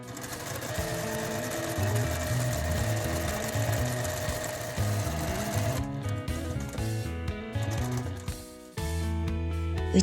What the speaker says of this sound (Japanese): 描いた線の上をミシンで縫うで。